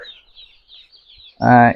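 Broiler chicks on a poultry farm give faint, high, scattered peeps at a distance, then a short loud voiced sound breaks in near the end.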